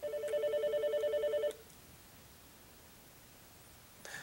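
An Alcatel-Lucent 8028 premium deskphone rings with a bright, warbling electronic tone for about a second and a half, then stops, followed by quiet room noise and a faint click near the end.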